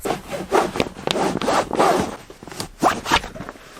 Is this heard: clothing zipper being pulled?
yes